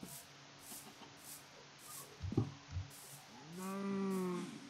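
Cows in the Minecraft Ocarina of Craft map, a long low moo swelling near the end after some scattered thuds and clatter, fairly faint, with no one speaking.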